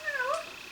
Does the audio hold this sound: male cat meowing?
yes